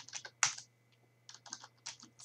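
Rapid bursts of keystrokes on a computer keyboard while a FORTRAN program is entered, close and fairly quiet, in uneven clusters separated by short pauses, with a steady low hum underneath.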